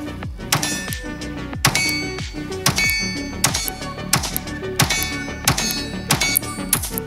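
Repeated gunshots from a Hellcat Pro Comp pistol fired at a steel target about 25 yards away at an outdoor range: ten sharp, loud cracks in quick irregular succession, each with a brief ringing tail, no talking.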